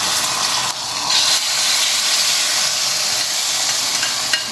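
Hot ghee tempering with cashews and cardamom poured into pongal gives a loud, steady, close hiss that holds throughout, with no talk over it.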